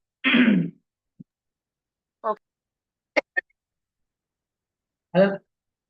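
A handful of short, separate throat clearings and a cough, close up, with quiet pauses between each burst.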